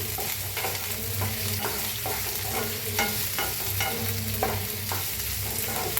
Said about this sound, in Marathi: तेल चांगलं तापलंय त्याच्यात टाकूया आपण कांदा कापून घेतलेला कांदा आता हलवून ना भाजून घेऊया आपण